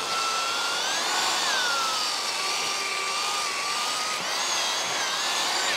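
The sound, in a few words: power drill drilling hole through timber base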